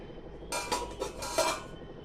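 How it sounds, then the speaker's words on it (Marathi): Metal lid set onto a cooking pot of peas for potato-pea curry, a short cluster of clinking, scraping metallic clatters close by over about a second, then quiet. "मी झाकण ठेवते"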